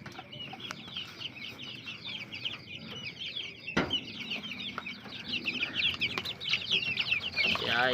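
A brooding hen clucks in a backyard chicken pen, giving soft repeated clucks amid other birds' chatter and faint farmyard rustling, with a sharp knock partway through and the sounds growing busier toward the end.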